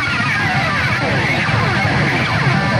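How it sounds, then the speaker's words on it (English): A harsh, continuous grinding scrape with sweeping pitch slides, loud and noisy throughout, like a pick dragged along wound electric guitar strings. "So string scrapes are where you scrape your string."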